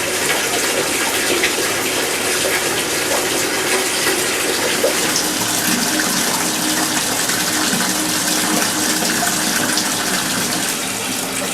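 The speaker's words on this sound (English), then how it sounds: "So let's get the bathtub filled up and go through those test scenarios." Tap water gushing steadily into a bathtub, a loud continuous rushing splash that fills the whole recording with no voices.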